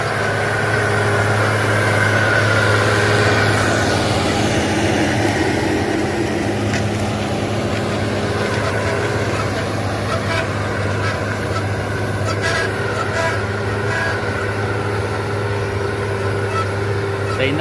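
A Massey Ferguson MF 7219 tractor fitted with a grader runs with a heavy, steady diesel rumble and throbbing low hum that holds unchanged throughout, with people speaking faintly over it.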